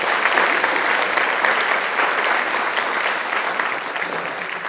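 Steady, dense applause fills the room at a college student award ceremony, many hands clapping at an even moderate level throughout, without a clear break or standout voice.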